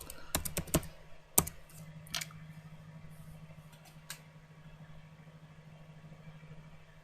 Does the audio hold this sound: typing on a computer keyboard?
yes